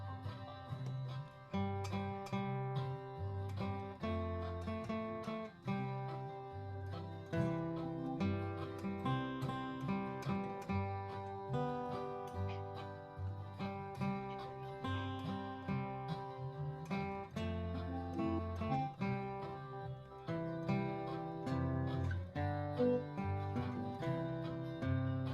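A melodic instrument plays a steady line of single notes over a sustained accompaniment, the phrases moving in a loose, singing rhythm.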